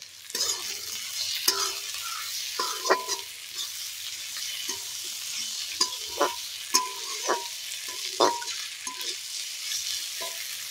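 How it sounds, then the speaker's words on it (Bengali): Onion and a little cut potato fry in a pan, a steady close sizzle broken by repeated scraping stirs and clinks of the spatula, no one speaking. "দেখো এগুলো দিয়ে ভালো করে ভেজে নিয়েছি"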